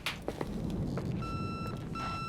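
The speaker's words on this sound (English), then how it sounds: "let's deal with that beeping" Electronic beeping in the video game The Suicide of Rachel Foster sounds in two short bursts of a high, steady tone over a dim background hum.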